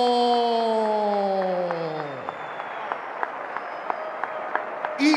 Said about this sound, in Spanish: Fuertes esos aplausos para Calixta Silgado.